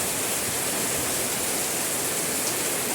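Heavy rain pours down steadily over a pigeon house in a sudden afternoon storm, a dense, loud, unbroken hiss of falling water with no pauses and no voices.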